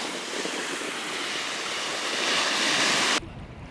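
Sea waves roll in at a beach, a loud, continuous wash of surf with wind buffeting the microphone, cutting off abruptly near the end.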